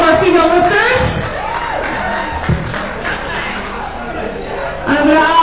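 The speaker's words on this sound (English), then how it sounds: "Round of applause for all of our female lifters" A crowd at a Masters Open lifting meet applauds and cheers for the female lifters on the platform, a loud, steady wash of clapping and shouting voices that swells again at the end.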